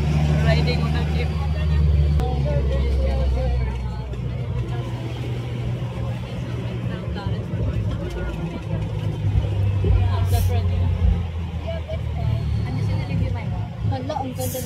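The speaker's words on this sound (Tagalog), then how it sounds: "Riding on a jeep." Riding inside a jeep, with a steady engine rumble and road noise that rises and falls throughout, and people talking over it.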